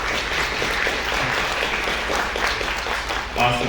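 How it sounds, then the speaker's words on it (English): An audience at an indoor Native American Awareness Day event in Garland claps loudly and continuously, a dense burst of applause that thins slightly before a voice is heard at the very end. "Let's give them a round of applause."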